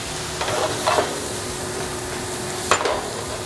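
Mushrooms cook in a pan with salt, pepper and a little added moisture, producing a constant loud sizzling hiss with two or three brief scraping stirs and no speech.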